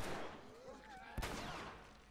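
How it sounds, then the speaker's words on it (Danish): Gunfire from The Last of Us video game, including a sharp, loud single shot amid game sounds, with a voice talking quietly underneath. "Vi bruker litt vel mye skudd her nå, synes jeg."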